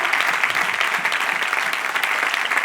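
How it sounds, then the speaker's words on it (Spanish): Steady, dense applause from a church congregation during a sermon, loud and continuous throughout with no pauses. "Dale un aplauso, aleluya."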